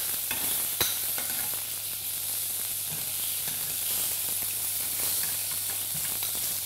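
Lamb sizzles steadily on a hot char-grill pan just after being flipped, a loud, continuous crackling hiss with a few sharper pops and no voices.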